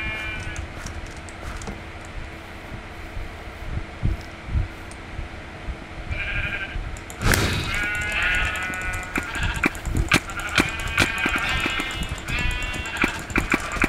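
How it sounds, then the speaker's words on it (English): Sheep bleats from the Minecraft video game, several short repeated calls over a steady background hum and scattered clicks, growing busier in the second half. "Sheep. Stay here."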